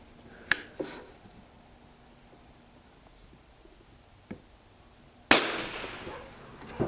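A Remington 510 Targetmaster rifle fires one sharp, loud shot near the end that rings out briefly, after a few faint mechanical clicks and snaps from handling the gun.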